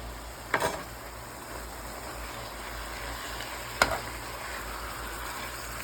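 Two pounds of hamburger meat fry in a pan, a steady, even sizzle close by, with two sharp clinks of a utensil against the pan.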